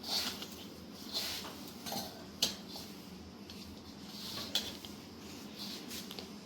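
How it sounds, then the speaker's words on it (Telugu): Sugar and jaggery mix stirred into hot grated coconut and semolina for rava laddu, giving quiet, sparse clinks and scrapes of a utensil against the pan at irregular intervals over a soft background hiss. "ఈ పంచదార బెల్లము మిక్స్ పెట్టాం కదా అది వేసేసుకొని బాగా మిక్స్ చేసేసుకోవాలి"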